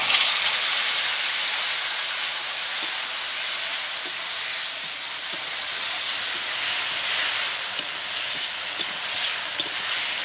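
Masala paste sizzling in hot mustard oil with browned fried potatoes in a Bengali home kitchen; a loud, steady hiss with scattered small pops and crackles continues throughout, with no talk.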